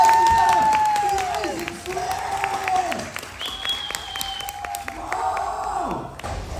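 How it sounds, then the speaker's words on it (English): Audience applause with some cheering at a live science show where fire and gas-filled bubbles are demonstrated, a steady crowd clapping that fills the whole stretch while a voice talks over it. "Give him a big round of applause."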